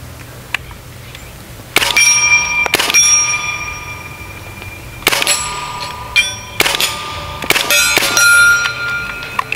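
Air rifle pellets from a Hatsan Blitz .30 calibre strike a big steel gong target, sounding a series of loud, sharp metallic clangs with ringing tails, some in quick pairs, separated by brief quiet gaps.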